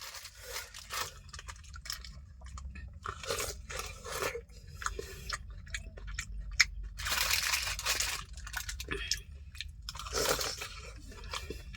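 A vada is bitten and chewed hungrily up close, with loud, irregular crunching bursts and wet chewing sounds continuing steadily without any talk.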